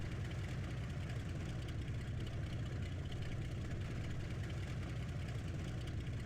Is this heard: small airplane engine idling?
yes